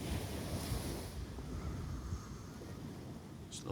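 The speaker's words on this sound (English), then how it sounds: "sound of the waves on the shore." Ocean waves wash onto the shore on the island of La Gomera, a steady, loud rushing surf blended with gusty wind noise, with no voices.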